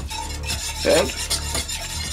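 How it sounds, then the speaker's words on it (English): A whisk stirs a garlic white pizza sauce with salt, white pepper and Italian seasoning in a pot, giving steady close scraping and swishing strokes, with a brief louder clatter near the middle and no talking. "whisk that until you get the consistency that you like."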